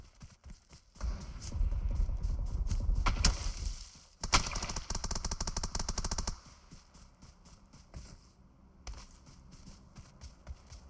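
Rapid automatic gunfire rattles in PUBG Mobile, a dense sustained burst followed by a second loud volley, then scattered distant shots over quieter game ambience.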